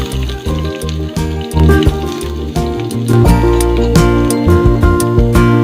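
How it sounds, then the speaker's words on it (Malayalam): Chopped onions hit hot coconut oil in a pan for a tomato curry, giving a loud, steady sizzle and crackle with stirring clatter throughout and no talking. "ഇനി ഇതിലേക്ക് ഉള്ളി അരിഞ്ഞത് ഇടാം."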